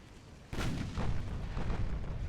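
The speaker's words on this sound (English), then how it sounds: "Our main gun is good." A warship main gun fires in the naval video game Ultimate Admiral: Dreadnoughts. One sudden heavy boom is followed by rolling, rumbling blasts that sustain loud and dense for about two seconds.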